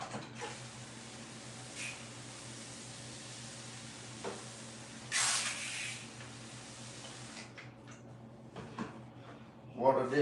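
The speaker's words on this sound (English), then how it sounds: "We'll spray it down." A short burst of cleaner spray hisses once amid a steady hum, with quiet handling noises and a clatter near the end.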